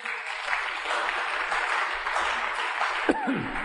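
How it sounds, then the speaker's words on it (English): A church congregation claps as an offering during a sermon, a broad steady roar of many hands with a cheer or whoop rising near the end, heard from a distance in a reverberant hall. "Somebody give God a clap offering here now."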